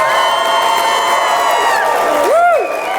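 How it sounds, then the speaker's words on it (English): Wedding guests cheer and clap right after the couple's kiss, a loud crowd roar with whoops and a sustained high shout rising over the clapping, with voices mixed in. "Applause."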